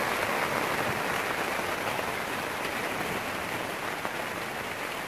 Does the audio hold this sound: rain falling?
yes